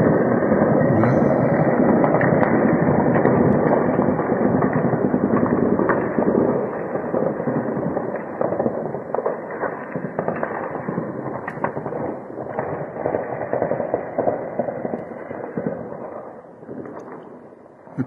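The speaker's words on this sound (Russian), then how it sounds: "Это уже четвертый заход, где-то по 3-4 минуты стреляют." Sustained gunfire with tracer rounds during fighting in Kyiv, a dense, continuous crackle and rumble of rapid shots at a distance that keeps up throughout and slowly fades toward the end.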